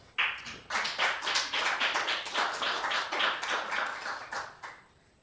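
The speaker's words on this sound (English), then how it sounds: "Let's give them a round of applause." Audience applause for school board members at an Ashland School Board meeting, a steady round of clapping from a room of people lasting about five seconds before tapering off.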